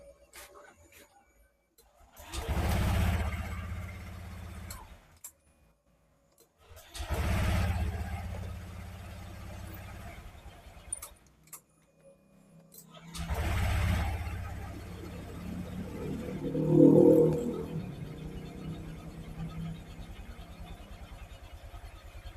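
A Honda Vario 150 scooter starting up in three separate bursts, each settling into a close, low running hum before cutting off, the last followed by a brief rougher rise.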